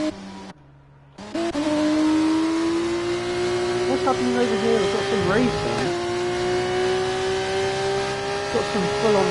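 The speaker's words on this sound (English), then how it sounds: "got some full-on racing here." Race cars at Monza, a loud sustained engine drone with rising and falling revs as cars run side by side, heard under continuous commentary after a brief drop in level near the start.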